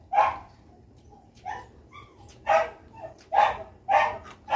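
A dog barks repeatedly nearby, sharp irregular barks spaced a second or so apart, with quieter yips in between.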